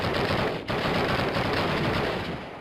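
Continuous gunfire in Call of Duty rattles in a dense, loud, unbroken barrage, with a brief dip before the shooting resumes and slowly eases off.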